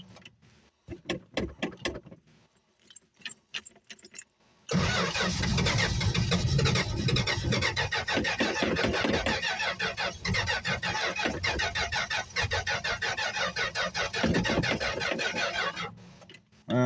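A classic car engine, from a group that includes a 1969 Mustang Mach 1 and a 1965 Plymouth Barracuda, cranks in rapid bursts that stop and start. It then catches and runs loudly at a rough, steady idle until the end.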